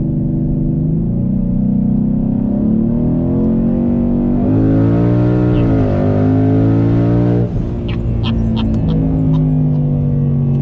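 A twin-turbocharged brand-new daily-driven car pulls hard with the traction control active, engine note climbing steadily through a loud, sustained acceleration, then shifting with a brief dip before rising again, close and continuous with no talk.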